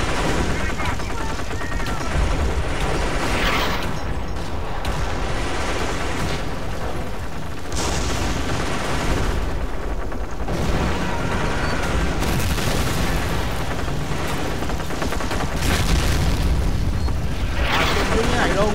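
Artillery fire and explosions from a Company of Heroes battle boom repeatedly in dense, overlapping bursts alongside gunfire, with someone talking over the din in Vietnamese.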